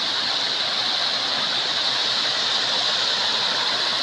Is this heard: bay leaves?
no